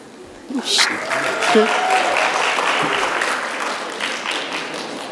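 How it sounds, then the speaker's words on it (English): A university forum audience at FIT breaks into applause after a brief pause, a steady wash of clapping from a modest crowd that carries on to the end. "It's good to have applause."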